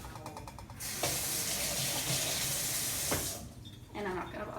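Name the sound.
rinsing hands under a running tap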